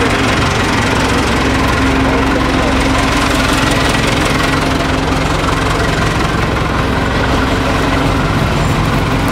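A vehicle engine drones steadily and loudly from the inside while driving through the streets of Hebron, a continuous low rumble with no breaks.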